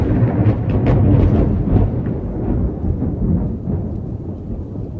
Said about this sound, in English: That was like rolling thunder when I said big changes are afoot.